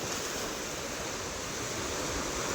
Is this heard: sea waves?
yes